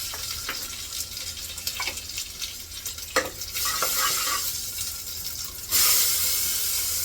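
Oil sizzling in a pan with mustard seeds, cumin and crushed garlic for a vegetable dish, a steady close frying hiss with light stirring scrapes and a brief louder surge near the end, no voices.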